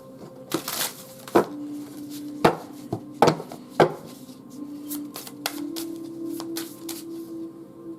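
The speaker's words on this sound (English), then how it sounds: "So I'm going to shuffle again." A tarot card deck being shuffled by hand, giving irregular sharp riffling and tapping bursts close to the microphone, separated by quieter pauses and a faint steady hum.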